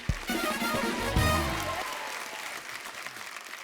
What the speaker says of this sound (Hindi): एक बार जोरदार तालियां फरा मैम और रवीना जी के लिए